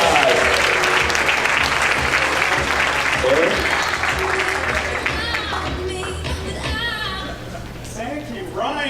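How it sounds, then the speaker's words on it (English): A school-district audience breaks into dense, loud applause that gradually thins out, with crowd chatter and voices mixed in toward the end. "Give them a round of applause"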